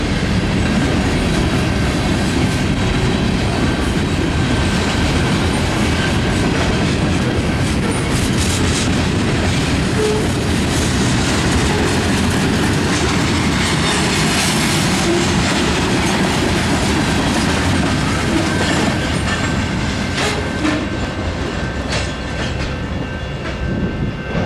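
A CN local freight train heading westbound in Battle Creek, Michigan, passing close and loud for the whole stretch, with a continuous roar and clatter of railcar wheels and faint squealing, and no talking.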